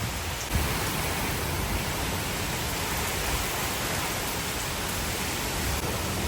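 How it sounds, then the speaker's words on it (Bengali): Heavy rain pours down steadily during a Kalbaishakhi storm, a dense, loud, unbroken roar of water close by that fills the whole stretch without any talk. "প্রচুর বৃষ্টি পড়ছে এখন, পুরো অবস্থা খারাপ ওয়েদার।"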